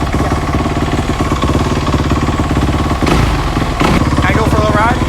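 A dirt bike engine, just kick-started, runs and warms up up close, a loud rapid popping idle with a couple of brief revs, while people talk over it.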